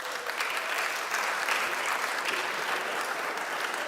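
Audience applauding in a lecture hall, a dense, steady wash of many hands clapping continuously for several seconds with no voices over it.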